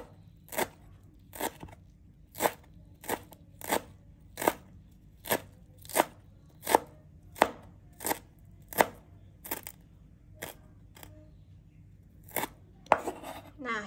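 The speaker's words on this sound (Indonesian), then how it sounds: "Selanjutnya, daun ketumbar atau daun supnya juga kita iris-iris." Coriander leaves being finely sliced with a knife on a board for a cucumber pickle, a steady run of about twenty crisp, evenly spaced chops, close and clear, ending with a brief rustle.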